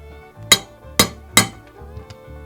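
Three sharp metallic taps at an even pace, close up, as a pin is tapped into a Colt Python revolver until it bottoms out, followed by a couple of fainter ticks against a low hum.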